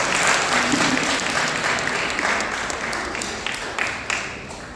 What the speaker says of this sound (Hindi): जोरदार तालियां बजाकर श्री गोपाल शर्मा जी का स्वागत करें।